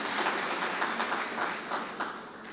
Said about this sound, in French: Je vous supplie, s'il vous plaît, de l'applaudir même s'il est absent.